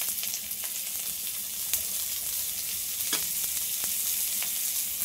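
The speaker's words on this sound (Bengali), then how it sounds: "লঙ্কাটা হালকা করে ভাজা হয়ে গেছে, এবারে পেঁয়াজ কুচি দিয়ে দিচ্ছি।" Chopped onion and green chilli fry in hot oil in a pan, a steady close crackling sizzle with occasional sharper pops and stirring scrapes, and no voices.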